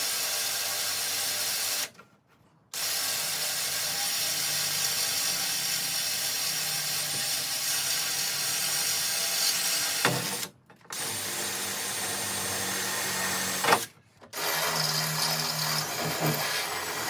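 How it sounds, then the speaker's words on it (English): A smaller drill bores a pilot hole in metal for budget Jeep rock sliders, giving a loud, continuous whirring grind broken by three brief pauses, close by with no talk. "First I'm going to drill a pilot hole with a smaller drill."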